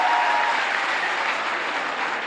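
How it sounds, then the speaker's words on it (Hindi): A crowd at a Congress political rally in Rajasthan claps loudly and continuously, a dense, even roar of applause with no pauses. "ताली बजाओ जोरदार, ताली जोरदार बननी चाहिए"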